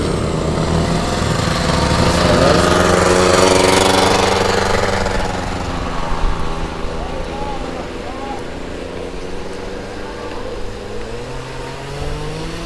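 A moped engine passes on a snowy winter bicycle path in Oulu, Finland, at -15°C, as a loud buzzing drone that swells, peaks and fades as it goes by.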